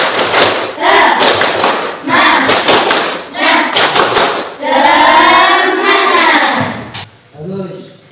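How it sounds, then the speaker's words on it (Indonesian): A class does a rhythmic spirit clap, with groups of sharp, loud claps and thumps mixed with children's voices chanting and shouting between them. "Tepuk semangat."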